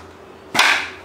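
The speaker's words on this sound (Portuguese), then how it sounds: "Eu vou armar ela para vocês verem que o sistema de segurança dela funciona" A CBC Nitro X 5.5mm air rifle being cocked gives one sharp, loud mechanical snap that rings out briefly and decays within half a second, following a quiet pause, with no one speaking.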